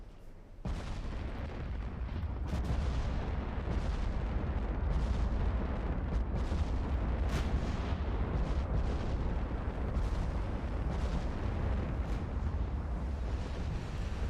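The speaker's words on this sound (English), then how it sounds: "Got a lot of battleships with 18-inch guns in this fight" Battleships with 18-inch guns trade fire in the naval game Ultimate Admiral Dreadnoughts, a dense, continuous rumble of heavy artillery booms and blasts that starts abruptly and keeps rolling loudly with no pauses.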